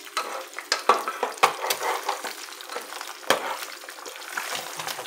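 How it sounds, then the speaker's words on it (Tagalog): Egg frying in a pan, close steady sizzling with scattered crackles and pops and occasional stirring or scraping sounds. "Para maging maganda yung pagkaluto ng itlog."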